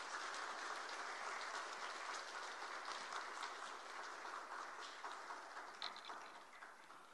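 Applause from a church congregation at a Friday prayer service welcoming a missionary, a steady, fairly faint, hissing wash of many hands clapping that holds throughout and eases slightly near the end.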